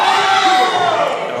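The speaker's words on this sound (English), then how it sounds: "as the darts crowd get rowdy" A rowdy darts crowd in a pub cheers and shouts together in a loud, dense roar that holds steady, then eases slightly toward the end.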